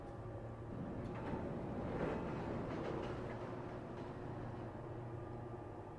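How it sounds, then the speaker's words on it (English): Train elevator moving in the Resident Evil 0 video game, a steady low mechanical rumble that swells slightly midway and then holds at an even, moderate level. "here's the train elevator"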